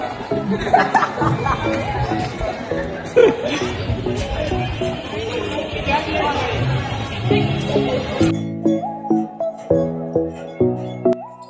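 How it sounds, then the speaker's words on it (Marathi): A dense crowd chatters and laughs at a temple during a palkhi procession in Narayan Chincholi, a loud, close babble of many voices that gives way to steady tonal music near the end. "तुम्ही इकडे बघू शकता किती गर्दी पडलेली"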